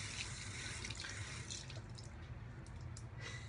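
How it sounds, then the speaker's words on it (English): Tap water pours steadily from a faucet into a bathroom sink while a shaving brush is wetted, a continuous close hiss of running water with no break and no voices. "Let me actually fill the sink up with water so you guys don't have to hear my faucet going."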